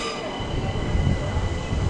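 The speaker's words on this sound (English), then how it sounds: "Got a Southwestern Railway service to Twickenham, about to depart there." A South Western Railway train at Clapham Junction station, its rumble loud and close with a steady low roar and faint high wheel squeal throughout.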